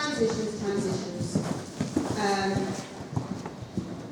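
Hooves of a young horse clip-clop on an arena surface during dressage schooling at Hartpury, a fairly close, rhythmic series of thuds heard beneath a person talking.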